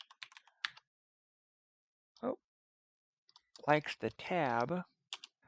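Clicks and taps on a computer keyboard come in a few short bursts, close and faint, with a voice speaking briefly between them.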